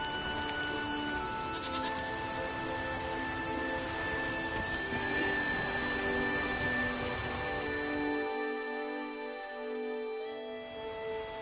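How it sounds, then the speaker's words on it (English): Steady rain in The Witcher 3 hisses on the ground around the player in the Skellige isles, continuous and moderately loud, with sheep bleating in the distance. "There's no point standing here in the rain."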